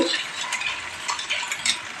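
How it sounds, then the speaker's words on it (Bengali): Yardlong beans fry with spices in a pan, a dense sizzle broken by repeated scraping and clinking of a stirring utensil, close and steady, with no speech. "এই দেখো মশলার সঙ্গে বরবটিগুলো একটু ভাজা ভাজা হয়ে গেছে"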